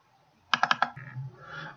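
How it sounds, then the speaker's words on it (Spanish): A computer mouse is clicked in a quick burst of four sharp, close clicks, followed by a faint, quieter tail of low sound. "Hacemos doble clic, zoom."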